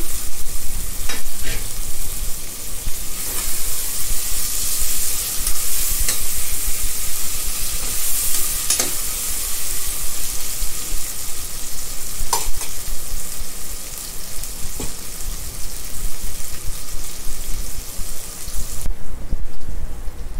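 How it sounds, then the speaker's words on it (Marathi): Potato sautés in a pan with tomato for egg biryani, giving a loud, steady sizzle with repeated stirring scrapes and occasional sharp clicks from the utensil, close and continuous throughout. "बटाटा पण परतून झालेला आहे"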